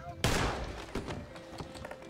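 A single sharp gunshot cracks loudly to start a fist fight in the video game Red Dead Redemption 2, followed by a few fainter thumps and scuffles.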